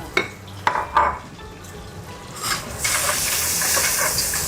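Cardamom and nuts roasting in a pan, with a few sharp clinks and stirring scrapes at first, then a steady close sizzle that grows and continues to the end.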